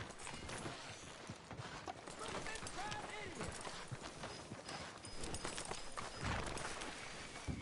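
Horse hooves clip-clop at a walking pace in Red Dead Redemption 2, a steady rhythm of moderate close steps on a town street, with people talking over them.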